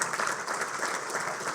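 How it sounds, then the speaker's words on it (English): Applause from an audience at a Bitcoin talk, a steady, moderately distant wash of clapping that runs briefly without a break. "I really want to get a round of applause for John and Jack for doing this"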